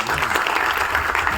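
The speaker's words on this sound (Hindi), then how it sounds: "अपूर्व सिंह के लिए एक बार जोरदार ताली होनी चाहिए" Loud, dense applause from an audience at a film trailer launch event, greeting the film's director with continuous clapping throughout.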